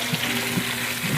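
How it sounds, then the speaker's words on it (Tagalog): Water poured into a cooking pot to make soup broth, a steady low splashing and trickling that runs continuously and fairly close throughout, with no talking. "Lalagyan mo na yung tubig."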